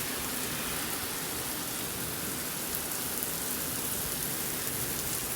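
Heavy rain pours steadily in Hungary, a dense, constant hiss of drops hitting surfaces with no pauses, loud and enveloping throughout.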